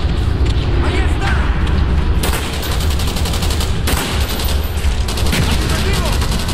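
Rapid gunfire in a Call of Duty Black Ops battle, loud sustained bursts of automatic and rifle shots layered with booms, with shouted soldier voices over the combat.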